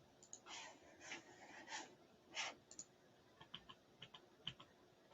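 Quiet, close typing on a computer keyboard during a Blender 3D modeling workshop: irregular bursts of key clicks with brief pauses between, over a faint steady room hum.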